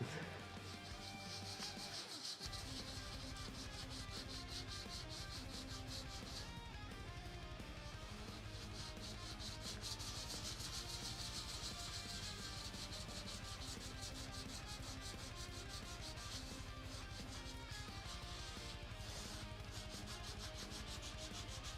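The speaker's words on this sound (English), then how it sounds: "I know I'm sanding" Continuous rubbing and rasping of sanding runs steadily through the whole stretch, fairly loud and close, with a brief quieter start before the scraping settles into an even, unbroken texture.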